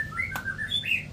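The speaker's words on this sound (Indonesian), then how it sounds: "Tuh anakan murai batu" White-rumped shama (murai batu) chicks in a cage give a quick run of thin, high chirps, close and fairly loud, with no voices over them.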